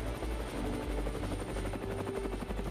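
Eurocopter Tiger two-seat armed reconnaissance attack helicopter, a loud continuous rotor thump with a rapid beating pulse and a dense roar, heard alone and steady throughout.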